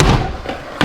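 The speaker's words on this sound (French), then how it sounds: "il y a la porte qui claque parce que j'ai laissé la baie vitrée ouverte" A door bangs shut in strong storm wind blowing through an open sliding glass bay window, a loud close thud followed by a rattle and a second knock.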